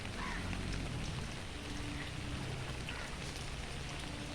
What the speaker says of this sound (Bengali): গতকাল সন্ধ্যায় যে বৃষ্টিটা শুরু হয়েছিল এখনো থামেনি